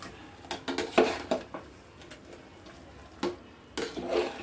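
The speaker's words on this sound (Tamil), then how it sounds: "இதை நல்லா கொஞ்சம் 2 நிமிஷம் கிளறி வச்சு" Rice being stirred in a pot for mushroom biryani, heard as a series of irregular scrapes and knocks of a spoon against metal, some sharp and clattering, separated by quiet gaps with no talking.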